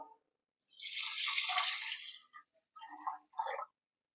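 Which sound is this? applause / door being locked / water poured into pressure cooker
water poured into pressure cooker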